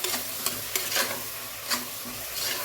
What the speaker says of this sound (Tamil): இந்த அளவுக்கு நல்லா டீப்பாக ஃப்ரை ஆகணும்.